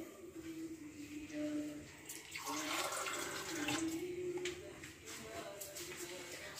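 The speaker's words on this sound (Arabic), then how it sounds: "نزيدني شويه الماء" Water pours into a bowl of dough while making harcha semolina flatbread, a soft running trickle with splashes, fairly faint and close, mixed with light handling noise.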